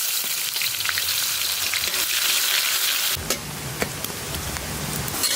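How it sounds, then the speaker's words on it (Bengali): Onions frying in oil for duck curry, a dense constant sizzle that shifts partway through to a louder, sharper crackle with a few stirring clicks, close up and without talk. "পেঁয়াজ সুন্দর করে লাল লাল করে ভাজা হয়ে গেছে"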